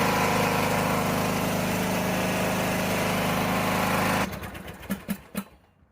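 A Briggs & Stratton lawn mower engine runs as it warms up, a loud, steady, close drone that stops abruptly near the end, followed by a few clunks and rattles before silence.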